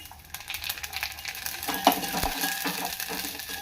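Vermicelli and dry fruits sizzle and crackle in a pan while being stirred, a steady close frying sound with occasional scrapes.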